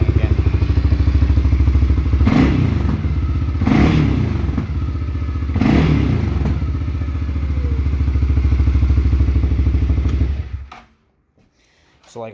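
A deep, throaty CFMoto CForce ATV engine with a modified exhaust idles loud and close with a rumbling exhaust, revving up in three quick blips before cutting off near the end.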